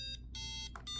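Short, faint electronic error beeps from a printer with a cassette error repeat in quick bursts with brief gaps, a thin tonal alert sounding on its own.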